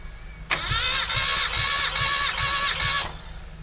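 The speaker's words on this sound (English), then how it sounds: "we're going to do a compression check on each cylinder" A Mazda MX-5 engine cranks on the starter for a compression check, a steady rhythmic chugging of about six compression pulses over a whining starter motor, close and fairly loud, then stops.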